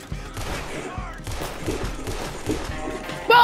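Rapid gunfire from a Red Dead Redemption 2 shootout, with a dense run of shots and impacts layered over game audio for several seconds and a sharp louder burst at the very end.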